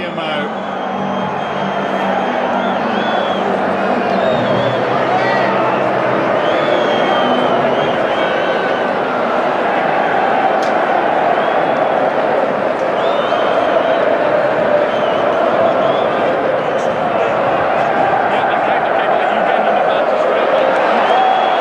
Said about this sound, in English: Crowd cheer as they see it on the big screen